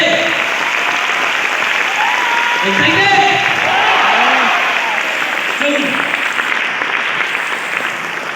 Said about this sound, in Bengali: হাততালি হয়ে যাচ্ছে?